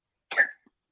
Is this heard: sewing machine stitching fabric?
no